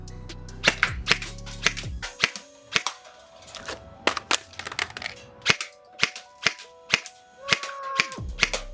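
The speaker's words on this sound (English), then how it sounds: "shoot 3 cans, do a speed reload, then shoot the other 3 cans" An airsoft gun fires at three cans, pauses for a speed reload, then fires at three more, about a dozen sharp cracks with hollow can clanks in an irregular rhythm, close and clear, with a low hum fading in and out.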